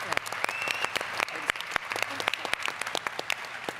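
An audience claps for Matt Burns, producing a steady, fairly loud patter of scattered hand claps with no voices standing out.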